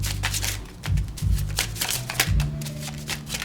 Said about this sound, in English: This is my shuffling method.